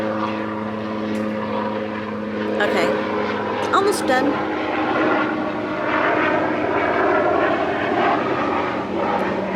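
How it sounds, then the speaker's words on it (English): A propeller airplane drones steadily overhead throughout, a sustained, fairly loud engine hum with someone speaking briefly over it. "I love the sound of an airplane going over."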